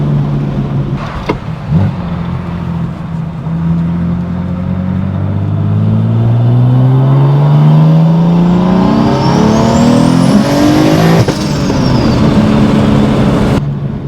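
A single-turbo car with a cast exhaust manifold revs hard in a long rising pull, engine note climbing steadily over about ten seconds with a turbo whine on top, loud and close, then cutting off abruptly near the end.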